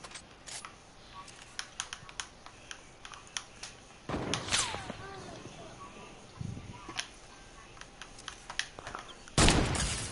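Rapid gunfire bursts in a first-person shooter video game crackle in short sharp volleys, with a louder burst near the end, under occasional talk.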